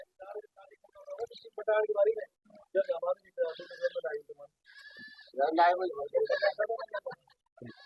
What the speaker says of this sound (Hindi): बाकी छोटे बकरी के बच्चे